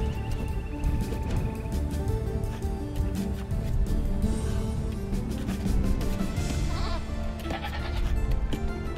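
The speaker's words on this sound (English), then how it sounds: "The one goat to save them all." A goat bleats repeatedly over continuous game sounds in Age of Empires 2, its wavering cries fairly loud and close, with no talking.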